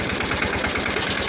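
The engine of a small mini tractor runs close by, a steady low throbbing idle with rapid even pulses and no voices.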